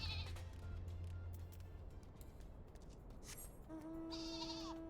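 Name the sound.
sheep bleat from a video game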